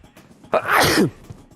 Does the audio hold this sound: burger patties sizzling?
no